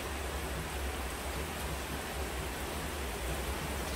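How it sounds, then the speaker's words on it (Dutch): Steady rain falls outdoors as a continuous, even hiss of broadband noise with no breaks, moderately loud and alone, with no voices. "Het is behoorlijk aan het regenen."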